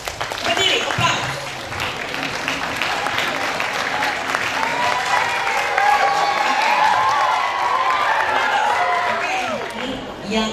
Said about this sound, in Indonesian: Berdiri, aplaus.